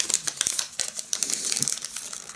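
A small paper envelope from an advent calendar is handled and torn open, with close crisp crinkles and quick rustling snaps in an irregular rhythm.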